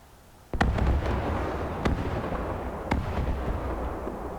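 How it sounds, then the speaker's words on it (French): Artillery shells landing in War Thunder, a tank battle game: three sharp explosive impacts at irregular intervals over a sustained rumbling battle background, moderately loud with no talk. "Il y a de l'artillerie qui tombe du côté de C."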